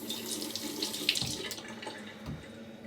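Water runs from a tap into a sink for a rinse after shaving, a steady close splashing stream with a few brief handling splashes and no talk.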